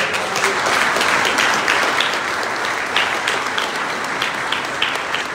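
A church congregation at Sunday Mass breaks into sustained, dense applause for the parish health team, a broad even wash of many hands filling the room.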